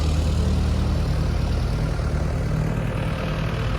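A cement mixer truck drives past on a street in a techno park, producing a steady, loud low-pitched engine rumble that fills the whole moment without pause.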